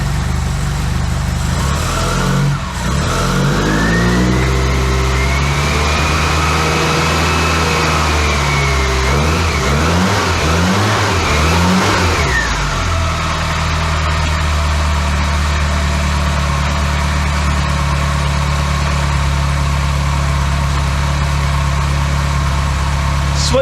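A Classic Mini engine is started for the first time and settles into a steady idle, with a few rising revs before it holds a loud, even hum.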